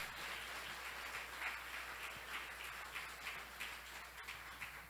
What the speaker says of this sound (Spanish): Alguien que aplauda fuerte al Rey de Reyes y Señor de Señores.